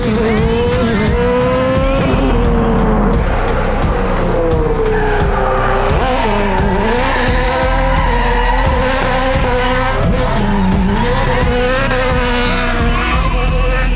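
A car engine roars continuously at high revs while Yokohama tires squeal through sustained donuts in thick smoke, loud and close, with pitch rising and falling as it slides.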